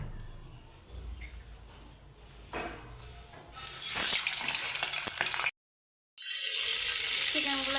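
Chicken pieces dropped into lightly heated oil for a simple white fry, bursting into loud close sizzling that builds mid-way, cuts out briefly, then resumes in steady crackling.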